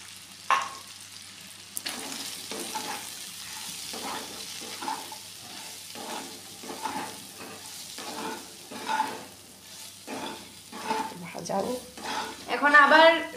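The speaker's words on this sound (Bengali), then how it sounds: "আমরা সয়াবিনগুলিকে তো আগে সিদ্ধ করে নিয়েছিলাম, তাই এখন বেশিক্ষণ লাগবে না এটা ভাজা হওয়ার জন্য" Boiled soybean chunks fry in a pan with a gentle sizzle while a spatula scrapes and stirs in a series of quiet, irregular strokes, fairly close and without talk.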